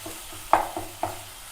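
Spices sizzle quietly in a pan while a utensil scrapes and taps against it in a few distinct strokes, close up and without voices.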